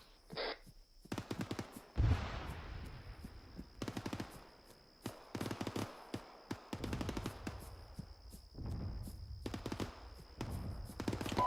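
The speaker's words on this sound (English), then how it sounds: "Mortar sounds are coming from the city." Mortar fire and gunfire in the ArmA 3 military video game sound in sharp repeated bursts and thuds, with echoing blasts and rattling volleys spread across the scene at moderate distance.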